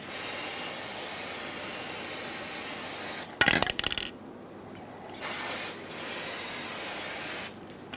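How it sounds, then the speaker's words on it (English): An aerosol can of brake parts cleaner sprays onto a wheel hub of a 2008-2010 Ford F-250 Super Duty in a long steady hiss, broken by a brief clatter, then shorter hissing bursts. "At this point, I'm going to rinse it down with brake parts cleaner."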